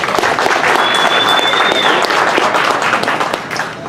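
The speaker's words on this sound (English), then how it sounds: "So a round of applause for yourself." Dense, steady applause from a conference audience filling the room at a security talk, loud and continuous with a brief faint whistle partway through, tapering slightly toward the end.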